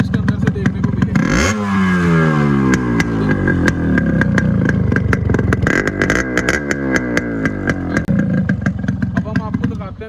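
A Yamaha RX100 two-stroke motorcycle engine revs repeatedly close by, its exhaust rising and falling through loud throttle blips in a steady rhythm, with a brief burst of wind-like rush near the start.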